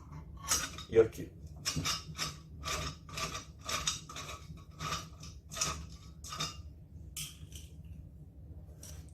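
A metal rod is fitted onto a Sparta bench drill press stand, giving a series of light metallic clinks, taps and scrapes at close range while someone speaks intermittently.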